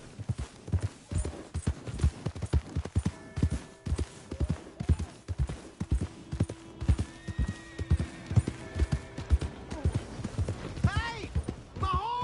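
Horse hooves clip-clopping in a PS4 video game, a steady rhythmic walk of close, distinct hoof strikes with a brief whinny, under game voices and light music.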